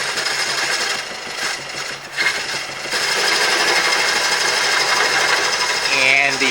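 Wood turning on a lathe with a gouge peeling off curly shavings: a loud, steady buzzing rasp of the cut with the motor's drone beneath, dipping briefly midway then resuming.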